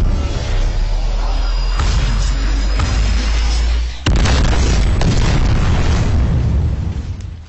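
The Lancer, a charged weapon in the video game Planetside 2, fires in loud, heavy booming blasts with a deep throbbing low end, a sharp burst at about the midpoint and brief pauses between shots.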